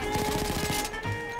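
Gunfire in Battlefield 1, a rapid burst of automatic shots fired in quick succession for most of a second, then a brief pause and one more shot, loud and close, with no talk over it.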